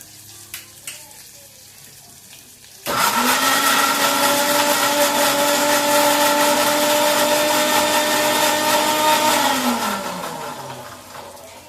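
A mixer grinder blending half an onion and two green chillies starts abruptly and whirs loudly and steadily for several seconds, then winds down near the end, with faint clicks before it starts.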